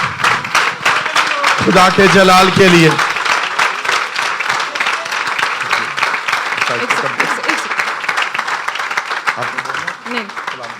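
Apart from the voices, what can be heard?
loud applause and clapping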